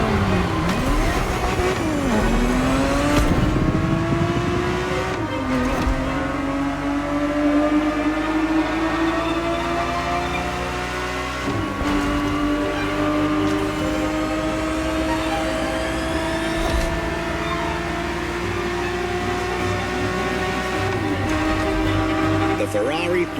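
A Ferrari 365 GTB4, a 1970s grand tourer, driving in the racing game The Crew Motorfest: a loud, sustained engine drone that climbs in pitch through the revs, drops at each gear change every few seconds and climbs again.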